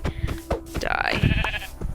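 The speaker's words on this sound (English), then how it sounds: "These sheep are gonna die today." A sheep in the Minecraft video game gives a single wavering bleat, fairly loud and close, after brief game noises, with no talking.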